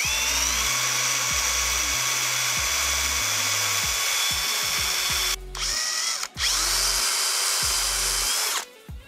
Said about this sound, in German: Jetzt muss man hier etwas zielen und halt so schräg durchbohren